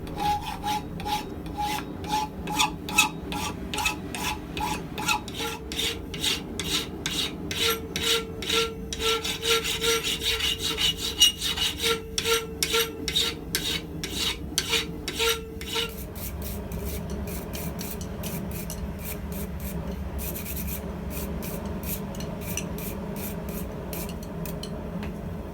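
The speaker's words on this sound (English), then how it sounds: "what I'll do is some hot filing" A file rasps in quick, even back-and-forth strokes on a hot blacksmith's ring and post tong. The strokes are close and rhythmic, then give way to a quieter steady background.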